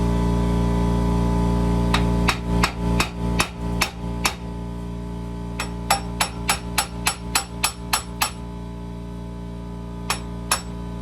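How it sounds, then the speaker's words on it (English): A hammer strikes the loose rear wheel hub of a 2010 second-generation Toyota Sequoia, loud close metallic clanks in two rapid bursts of about half a dozen and a dozen blows, then two final hits, over a steady engine-like drone. "So probably give it a couple whacks."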